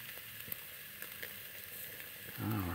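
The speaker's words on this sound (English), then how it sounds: "Listen to that sizzle." Potatoes and chuck steak sizzle in a pan on a homemade stove outdoors, a steady close crackle and hiss that grows a little louder at the end.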